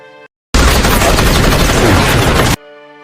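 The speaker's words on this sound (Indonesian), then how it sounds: "Saat berlari, dia diserang oleh pesawat Soviet." Rapid automatic gunfire from an attacking Soviet aircraft in a Korean war film bursts out loud and dense for about two seconds, framed by brief stretches of droning music.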